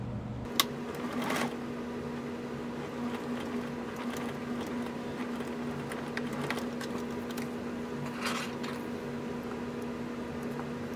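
A sewing machine stitches through a paper-bag mini journal in a steady, even mechanical whir with a few sharp clicks, close and alone without talk.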